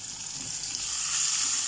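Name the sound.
frying onion in a pan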